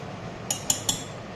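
A lid settles onto a pan of pointed gourd cooking on a gas stove, making three quick metallic clinks about a fifth of a second apart over a low background hum.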